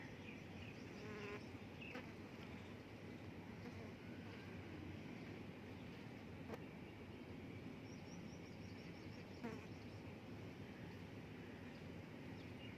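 A sewing machine stitches the open edge of elastic on a pair of baby bloomers, a steady faint motor buzz running throughout with a few brief clicks.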